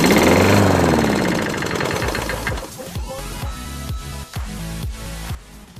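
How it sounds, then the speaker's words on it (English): A neglected lawn mower engine, after sitting for years with an oil leak and a primed carburetor, fires loudly and runs roughly, then slows into sputtering, uneven pops as it dies out. "Let's go ahead and prime the carburetor and try to start it."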